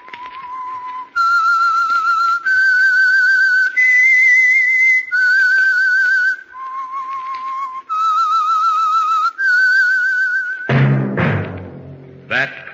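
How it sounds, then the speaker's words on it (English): A melodic whistled theme played alone, clear and sustained: a sequence of long held pitched notes stepping up and down, ending in a brighter orchestral sting, with no voices. "That whistle is your signal, the Whistler."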